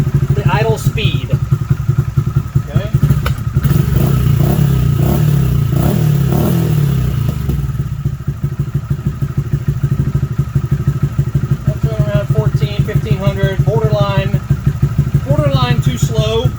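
A Honda Grom 125 motorcycle engine idling up close, a loud steady low putter with rapid even pulses, while someone talks over it.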